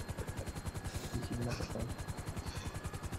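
Helicopter rotor in GTA 5 chopping in a fast, steady rhythm, loud and close, with a constant engine whine over the beat.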